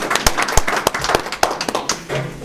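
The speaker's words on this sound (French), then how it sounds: "Je voudrais que vous applaudissiez pour vous-même d'abord." Applause at a candidates' debate, a modest scattering of individual claps with distinct sharp hits, fairly close and thinning out toward the end.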